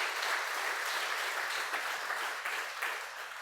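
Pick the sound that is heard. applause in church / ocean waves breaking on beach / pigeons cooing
applause in church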